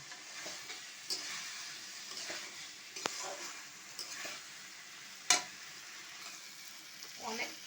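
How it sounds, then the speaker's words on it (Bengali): Boiled potatoes and taro stolons go into spices frying in oil, giving a soft, fairly quiet sizzle with scraping stirs and one sharper clack of the spoon against the pan. "এখন আমি এই যে সিদ্ধ করে রেখেছিলাম আলুটা আর লতিটা এই যে লতিগুলো আর আলুটা দিয়ে দিচ্ছি"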